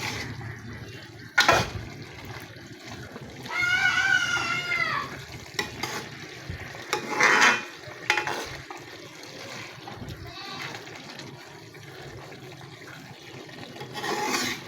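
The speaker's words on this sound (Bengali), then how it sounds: "এখন আমি নেড়ে চেড়ে দেখবো ঝোল কতটুকু রাখবো" A nearly finished vegetable curry simmering in a pan while being stirred gives a soft ongoing sizzle with scraping, rubbing spoon strokes that come and go, plus a few brief clanks, heard alone at moderate level.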